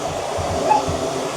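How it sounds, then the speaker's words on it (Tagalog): A household vacuum cleaner, just repaired, runs with a steady broadband whirring drone at moderate loudness, unbroken across the short span with no voices. "Guys, I fixed the vacuum."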